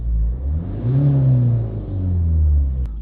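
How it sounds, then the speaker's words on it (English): The engine of a Ford Focus ST diesel with DPF and oil deterioration fault codes revs twice from idle, each rise and fall a smooth climbing whine over a deep rumble, loud and close, with a small click near the end. "Give it a couple of revs."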